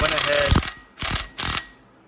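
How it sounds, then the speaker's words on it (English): Three bursts from an impact gun running bolts in slowly during an E36 rebuild: one longer whirring rattle, then two shorter ones separated by brief pauses, close and loud with no talk over them. "I'm gonna just kind of run them in with this gun, just slowly, just get them a little snug"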